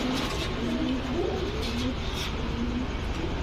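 A pair of Gangchil Kaldam pigeons cooing softly in repeated low, rolling phrases over a constant background hiss and hum, fairly close but not loud.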